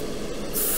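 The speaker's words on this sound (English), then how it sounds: "We'll go real light." A brief, light burst of spray paint misting onto a model hull, a soft steady hiss that swells slightly near the end, close-up and alone.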